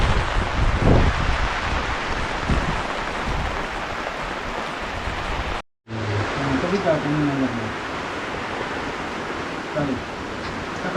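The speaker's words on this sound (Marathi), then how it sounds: "खूप जोरात पाऊस सुटला बघा आवाज बघा" Heavy monsoon rain pours outdoors during an Independence Day outing in a rural natural setting, a dense steady roar throughout with a brief dropout midway, and a person's voice faintly over it.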